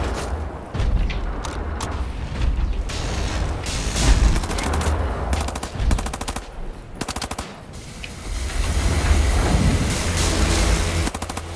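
Rapid automatic gunfire in the shooter game Wolfenstein: The New Order: loud, dense bursts of shots broken by short pauses, with booms and mechanical clatter.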